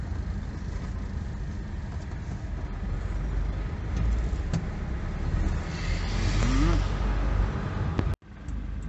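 A car drives slowly through the streets of Vladivostok, a steady engine and road rumble heard from inside with passing traffic noise and a brief rising whine near the end.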